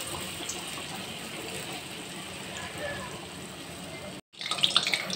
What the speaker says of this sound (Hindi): मैं डाल दूँगी इसके अंदर आलू का कबाब